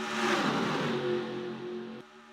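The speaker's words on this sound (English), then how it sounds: "Listen to these cars when they go by, just listen to this." Stock cars roaring past in the NASCAR Racing 2003 video game at the Bud Shootout, a loud engine whine swelling and fading as the pack sweeps by, then a steadier engine drone.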